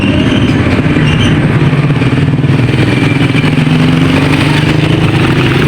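Loud, continuous street traffic from tricycles and motorcycles in a narrow city street, a dense rumbling engine drone with clattering and idling tones, no voices over it.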